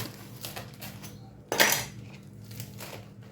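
Knife cutting through the crunchy crust of hot, freshly cooked bread: soft scraping, then one sharp crackling burst, followed by lighter crumbling scrapes, close and quiet.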